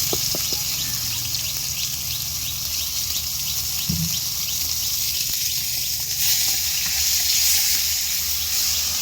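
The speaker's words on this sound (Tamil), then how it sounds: "அடுத்தது நம்ம அரைச்சி வச்ச இந்த வெங்காயம், தக்காளி, இந்த மசாலா எல்லாத்தையும் வந்து சேர்த்துக்கலாம்." Ground onion, tomato and masala paste sizzling steadily in a hot pan for crab curry, a continuous close frying hiss with small crackles and a brief stir clatter, no talking.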